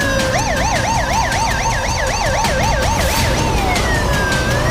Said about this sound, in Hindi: शहर और सड़क पर पुलिस और एम्बुलेंस के सायरन का